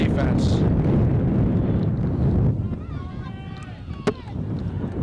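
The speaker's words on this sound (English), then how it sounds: "It's getting a bit windy here in Westborough." Strong wind roars and buffets the microphone at an outdoor Thanksgiving Day high school football game in Westborough, loud and steady, then easing slightly with faint distant calls and a brief knock.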